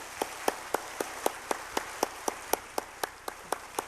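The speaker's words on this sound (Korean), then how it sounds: "우리 뜨거운 박수로 환영하겠습니다." A church congregation welcoming newcomers claps in unison, with sharp, evenly spaced beats about four per second in a steady rhythm at moderate loudness.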